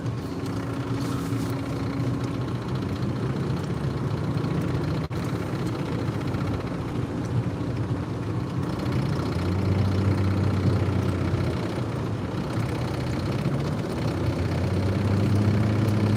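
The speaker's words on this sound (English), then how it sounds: "Sorry about the noise on my car." Noisy car engine idling in a parked vehicle, a steady low rumble with a rough, uneven throb that continues unbroken, close and fairly loud with no talk.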